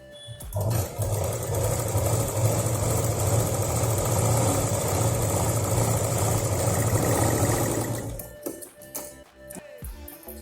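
Electric sewing machine running steadily for about eight seconds, stitching layered cloth for a ladies' handbag, a loud continuous motor drone that stops abruptly near the end.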